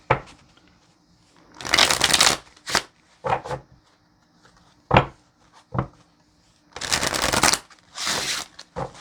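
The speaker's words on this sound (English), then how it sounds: "I'm actually gonna shuffle one more again." A deck of tarot cards is shuffled close up in several bursts: long riffling rushes broken by short taps and slaps of cards being squared, with quiet gaps between.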